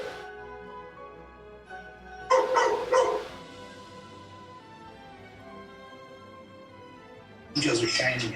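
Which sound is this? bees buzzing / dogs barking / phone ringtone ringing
dogs barking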